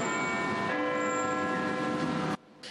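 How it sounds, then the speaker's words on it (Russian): The great bells of Big Ben, the London clock tower, struck with tremendous force: one loud, sustained, ringing peal with rich overtones that fills the moment and then cuts off abruptly. "его колокола бьют с такой силой, что даже на земле рядом ощущается вибрация"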